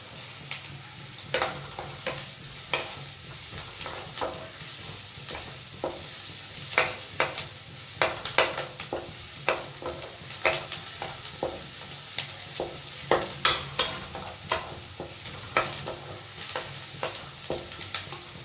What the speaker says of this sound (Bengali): পেঁয়াজটা একটু লাল লাল করে ভেজে নেব। তারপর দেব রসুন কুচি